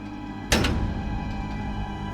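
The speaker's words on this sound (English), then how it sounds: "I was suddenly startled by the sound of the door behind me slamming shut" A basement door slams shut with one sudden heavy thunk and a brief rattle, close and loud, then a faint lingering room tone.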